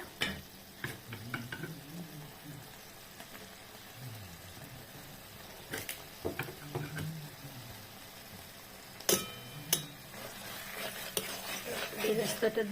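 Bengali duck and chicken curry with fried onions stirred in a pan, soft sizzling and bubbling with scattered scrapes and clinks of a spoon against metal, close and fairly quiet, louder clanks near the end.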